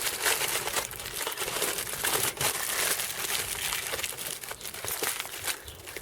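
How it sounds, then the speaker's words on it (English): Tin foil being crinkled and wrapped around a car's fuel cap as heat protection, a dense continuous crackling and rustling that stays loud and close throughout, with no talking. "I'm going to wrap the fuel cap in tin foil as"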